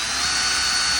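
A power drill drives screws into a Dodge Ram truck, a steady high-pitched whir held close and loud through a short stretch with no talking.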